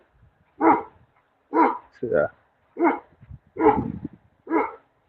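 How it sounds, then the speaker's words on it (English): A big dog barks about six times, in short loud separate barks with brief pauses, and a voice speaks between them. "It's a big ass dog."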